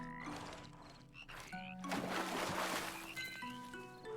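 Frogs croak repeatedly in a cozy witch life-sim game set in the woods, layered over soft musical tones and a brief watery splash, all fairly quiet.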